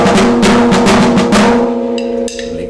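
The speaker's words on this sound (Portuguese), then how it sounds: "Este é o som da caixa." A 14-inch marching band snare drum (caixa) struck in a quick run of loud, close rattling hits, then a few last strokes ringing out with the snares buzzing.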